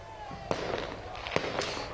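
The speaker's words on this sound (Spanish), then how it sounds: "Hay hartos fuegos artificiales, muchachos, que están lanzando aquí los hinchas en este sector a un costado" Fireworks launched by football fans outside Estadio Monumental crack and pop at a distance, with a few sharp bangs over a steady crowd roar.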